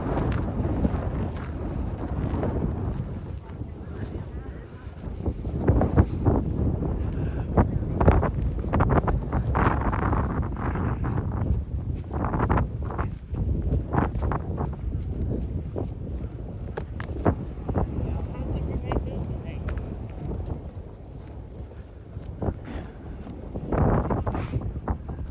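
Outdoor wind blows steadily across the microphone, a continuous low rumbling buffet with gusty surges that lasts throughout, with no talking.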